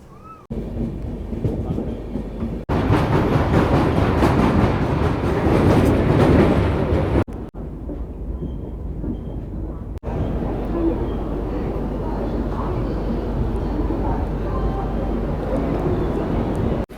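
Guwahati Garib Rath Express (12517) running on the line near New Jalpaiguri, a loud steady rumble and roar of the moving train continuing throughout with shifts in intensity, as heard from inside the carriage.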